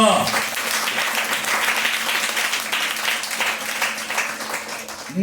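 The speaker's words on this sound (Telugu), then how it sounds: "గట్టిగా చప్పట్లు కొట్టు." A church congregation breaks into loud sustained applause, dense clapping from many hands filling the room for several seconds, with a voice briefly audible at the start.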